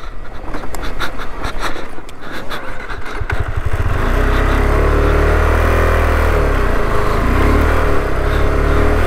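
A motorcycle rides a dirt track through high-altitude desert in Ladakh, its engine a steady nearby drone. Wind buffets the mic early on, then the engine note grows louder and holds a constant mid-pitched hum to the end.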